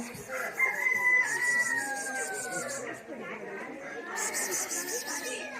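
A hen clucks amid other chickens and birds in a busy enclosure, with people chattering nearby throughout.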